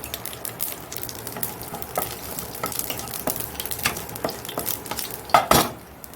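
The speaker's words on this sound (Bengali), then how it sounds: "এখানটায় কড়াই বসিয়ে দিচ্ছি আর এখানে দিচ্ছি কালো জিরে আর শুকনো লঙ্কা ফোড়ন" Nigella seeds and dry red chillies sizzle and crackle in hot oil in a wok, with steady frying hiss, scattered pops and a clatter of a spoon against the pan toward the end.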